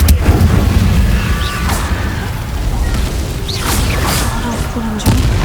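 The Incendio fire spell is cast in Hogwarts Legacy, heard as a loud, continuous rumbling roar of flame and booming effects with a few sharp bursts, close and full throughout.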